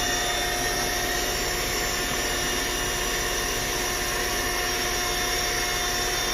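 Small electric pump motor inflating an air bed inside a camper van, running off a battery bank and inverter, gives a steady, continuous whine and drone with no breaks.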